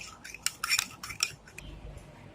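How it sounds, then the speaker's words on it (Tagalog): A metal spoon clinks rapidly against a glass while stirring an instant coffee mixture, giving bright, close taps in a short burst, then a few scattered clinks trailing off over faint background hiss. "and then stir. Be sure to mix it well."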